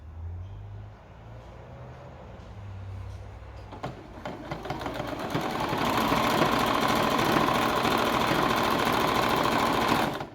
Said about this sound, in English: now I'll just put a little hem on that sleeve. So just locking that stitch in